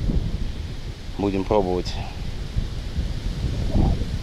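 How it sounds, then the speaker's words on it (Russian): A strong, steady wind roars and buffets at the water's edge during a stormy roach-fishing trip, loud and constant, while someone speaks briefly over it. "Плохо, волна сильная, ветер."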